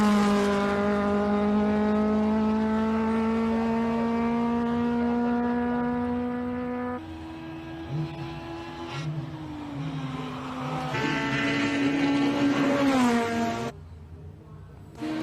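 A March 79B race car with a Cosworth engine climbs a hillclimb course, its loud, sustained high-revving engine note shifting pitch through gear changes, with the car staying close throughout.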